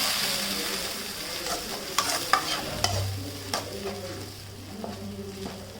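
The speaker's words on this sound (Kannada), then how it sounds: "ಇದು ಸ್ವಲ್ಪ ಎಣ್ಣೆಯಲ್ಲಿ ಫ್ರೈ ಮಾಡುವ." Tomato, ginger, garlic and garam masala fry in oil for a chicken gravy, a close, steady sizzle punctuated by repeated spatula scrapes and taps on the pan.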